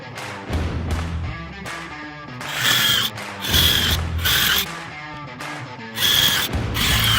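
A 2.5 inch screw is driven into wood for a DIY ninja obstacle, heard as several loud bursts of a power driver whirring and ratcheting, separated by short pauses, with no talking.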